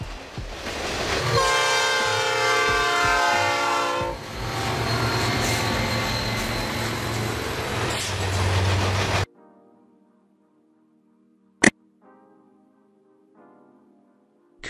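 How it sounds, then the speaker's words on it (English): Freight train hauling goods by rail rumbles past loudly with a horn blast and a long roar of wagons, then cuts abruptly to a quieter, distant stretch of track noise broken by one sharp click. "Freight train, a train dedicated to transporting goods from one location to another"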